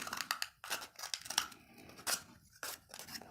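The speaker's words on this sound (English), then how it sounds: "carefully take your scissors, and we're going to cut along the edge so that we cut a straight line" Repeated snipping of scissors cutting through a stiff cardboard tube, close up, in short irregular strokes with brief pauses between cuts.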